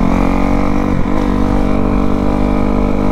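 A Kawasaki KX250F dirt bike engine roars loud and close as the rider accelerates, a steady buzzing four-stroke drone with a brief dip in pitch around a gear change before pulling hard again.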